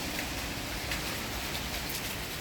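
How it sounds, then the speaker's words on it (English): Freezing cold rain falls outside in a steady, dense hiss of drops, even and unbroken for a couple of seconds with no voices. "But yeah, I'm enjoying the rain."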